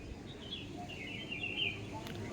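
Pigeons kept at a bird market stall in Ranihati let out faint, scattered chirps and calls against low background murmur and handling noise.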